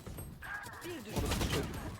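Rapid gunfire in the shooter game Valorant, bursts of shots running throughout under excited voices talking over each other.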